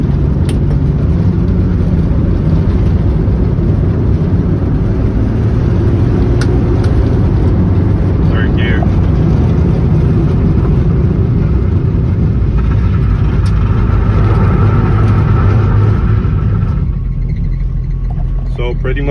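A classic Ford Mustang with an early C4 automatic transmission being shifted by hand rumbles loudly and steadily from inside the cabin, the engine note rising toward the end, with speech mixed in at times.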